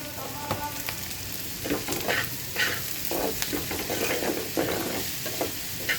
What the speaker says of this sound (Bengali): ভাজা তেলের মধ্যেই পেঁয়াজ দিয়েছি